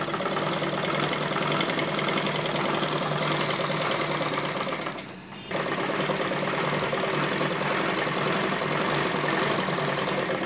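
Sewing machine stitching a patch onto the lining of a dress runs in a fast, steady mechanical whir, pausing briefly midway before continuing.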